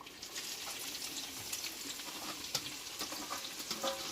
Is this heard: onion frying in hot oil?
yes